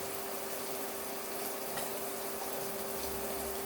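Water runs steadily into a cooking pot while a vegetable biryani is prepared, a continuous faint hiss and splash with no break and no talking.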